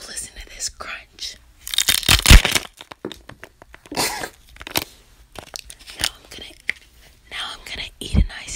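Ice cubes crunch and crack loudly between teeth, close to the mic in irregular bursts, mixed with soft whispering.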